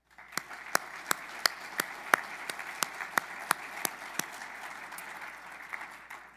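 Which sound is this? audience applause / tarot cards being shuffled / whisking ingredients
audience applause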